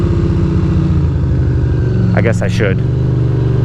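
Motorcycle engine idling in first gear, steady low rumble throughout, with a person speaking briefly over it near the end.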